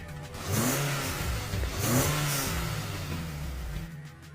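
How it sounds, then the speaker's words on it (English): Two car engines fire up and rev hard, their pitch sweeping up and down in repeated surges that stay loud and close, with no voices over them. "They're saying both of them got their engines started."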